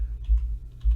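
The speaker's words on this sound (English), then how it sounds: "We're going to put that equal sign in again and start typing" Quick run of keystrokes on a computer keyboard, a few soft close clicks over a low background hum, with no speech.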